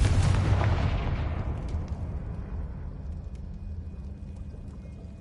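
A Confringo explosion spell in the video game Hogwarts Legacy bursts loud and close at the start, then a long rumbling roar fades away over several seconds with no voices.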